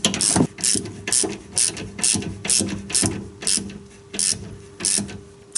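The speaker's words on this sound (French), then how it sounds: "Et tu resserres ensuite tes vis entre 25 et 30 Nm." A hand ratchet tightening the rear brake caliper bolts on a car to 25–30 Nm, with about eight regular, close clicking bursts in a steady rhythm and no speech.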